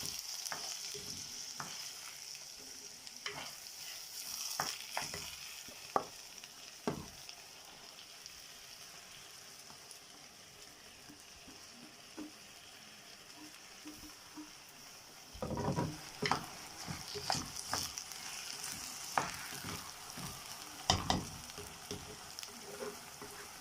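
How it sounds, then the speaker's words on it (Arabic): Cooking oil and white rice being stirred in a pot, with a soft continuous sizzle and scraping stirs that come in bursts, livelier near the start and again in the final stretch, with no talk. "انا بحط الاول الزيت وبقلبه في الزيت شويه"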